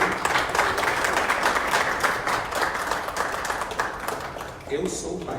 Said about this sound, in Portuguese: Palmas para o Toninho.